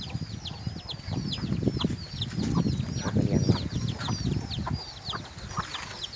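Breeder hens and roosters on a farm cluck continuously in a dense, close flock of overlapping calls, with higher chirps scattered throughout and someone speaking briefly.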